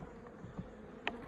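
Honey bees hum in a low, steady drone at an open beehive, quiet and close, broken by a few soft knocks and clicks of frames being handled.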